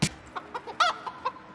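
A rooster on a farm clucks and calls in short bursts, several brief loud cries spaced through a second and a half, with a closer harsher call in the middle, no talking.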